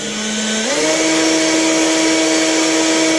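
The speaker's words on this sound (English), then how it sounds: "I use battery drill on its slowest setting." A steady motorized whir from a cordless drill on its slowest setting spinning a cylinder hone in a Toyota 1JZ engine bore, rising slightly in pitch early on, then holding a constant hum.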